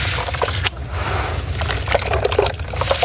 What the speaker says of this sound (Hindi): पानी मैंने इस दफ़ा बहुत ज़्यादा डाला